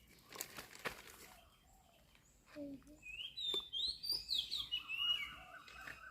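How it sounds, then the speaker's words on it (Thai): Birds chirp and trill in a quiet valley setting at a Khao Yai resort, a run of bright overlapping calls building in the second half over soft ambient background, with a few faint knocks early on. "มีเสียงนกร้องเป็นธรรมชาติดีมาก"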